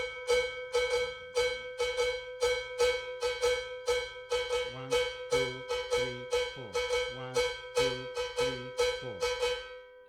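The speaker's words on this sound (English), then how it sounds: "So that's with a triplet feel." Cowbell struck in a repeating groove with a triplet feel, bright metallic hits in steady clusters, close and alone, with a low muted tone underneath in the second half.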